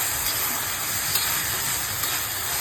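Chopped tomato goes into onions already fried red in hot oil for chicken biryani, giving a steady, dense sizzling hiss throughout with no talking.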